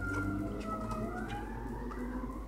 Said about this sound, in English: you hear that siren, check and post